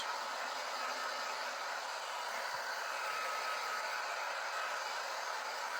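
A hair dryer blows steadily to dry Mod Podge on a spring garden wall decor craft, giving a constant, even rushing hiss at close range with no speech.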